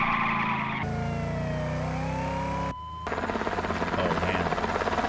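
A helicopter from the film Smokey and the Bandit roars with a steady loud rotor and engine drone, a whining pitch sweeping under it, then a brief drop before a pulsing chopping rotor sound returns.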